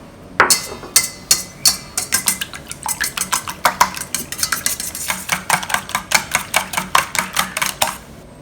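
Eggs and salt are whisked in a bowl, making a rapid, steady series of sharp clinks and taps against the bowl, close and loud, around thirty strokes in an even rhythm with no talking.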